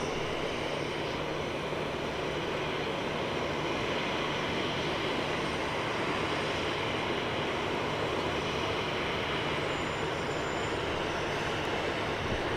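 A Qantas Link airliner on takeoff from runway 16 at Sydney Airport in rain, its engine roar a steady, broad, distant-sounding drone that holds unchanged throughout, with no talking.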